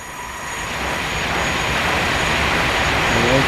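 A green train rolls past in the Farming Simulator 19 video game, a steady broad rumbling roar that swells slightly louder as it continues without a break.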